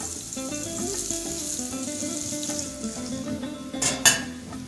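Carrots sauté in hot oil in a pan, a steady close sizzle that runs throughout, with a brief metallic clink of a utensil near the end.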